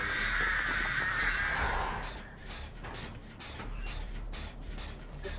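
Crows caw in Dead by Daylight, a loud harsh burst of cawing at the start that fades into a quieter rustling game backdrop with no talk.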